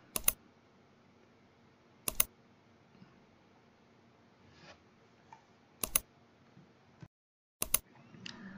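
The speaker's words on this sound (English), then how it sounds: "Hit Windows key and R key at the same time." A computer keyboard is pressed in a few separate, sharp keystrokes with gaps between them, close and quiet in an otherwise still room.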